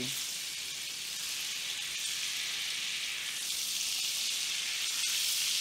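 Butter melting in hot oil in a pan while meal prepping keto food, giving a steady, close broadband sizzle that swells slightly toward the end, with no talking over it.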